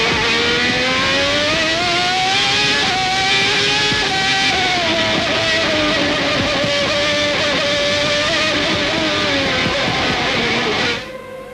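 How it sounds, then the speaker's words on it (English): A Ferrari V12 Formula One car screams past at the 1995 Australian Grand Prix, a loud sustained high-revving whine that holds steady with slight pitch shifts before cutting off at the end. "Just glorious sounds from that Ferrari V12"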